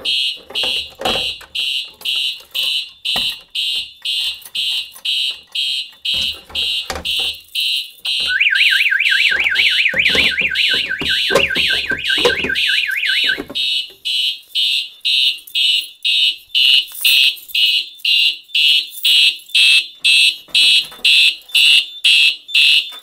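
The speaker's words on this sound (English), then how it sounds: "Okay, let's silence that. That was a lot of noise. So you can see the alarm is still unacknowledged." A Simplex 4010 fire alarm panel sounds a loud, rapid pulsing alarm throughout. A steady, warbling tone joins it in the middle and then stops, while the pulsing continues to the end.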